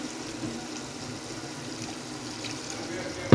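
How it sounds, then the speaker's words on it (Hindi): Water pours steadily into a pot of chicken pulao on the stove, a continuous close splashing hiss for a few seconds. "अब हम इसमें थोड़ा सा पानी ऐड करके इसको गलने के लिए रख देंगे"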